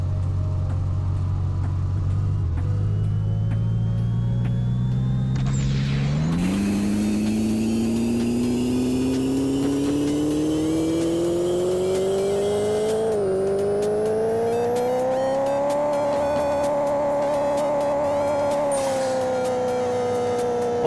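A 2JZ-swapped Volkswagen Golf IV engine in the video game Pixel Car Racer, making about 1500 horsepower, revs steadily upward on a dyno pull, its droning tone climbing with a couple of brief shift dips, loud and continuous with no talk.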